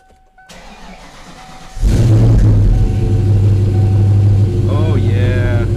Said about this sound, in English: So we'll give you guys that cold startup.